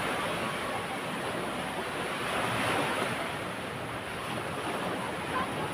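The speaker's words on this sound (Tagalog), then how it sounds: "Lalaki ng alon talaga." Big ocean waves surge and wash in a continuous broadband roar, with wind buffeting the microphone at sea.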